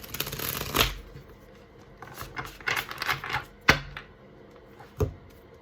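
A Star Child Tarot deck is shuffled by hand in small split portions, starting with a long riffling burst, then a series of short, irregular card flicks and taps, close and with no talking.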